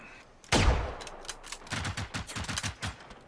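A single loud gunshot fires at close range in the video game Generation Zero, followed by a rapid string of quieter shots with a steady rhythm.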